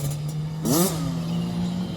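A motorcycle ridden by a child learning clutch control idles with a low steady hum, then the clutch is dumped and it briefly revs up and drops back without stalling, with a clatter as the throttle opens.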